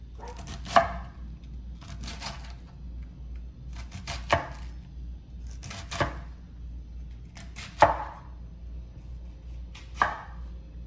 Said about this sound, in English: you're gonna take your knife and you're just going to cut your cabbage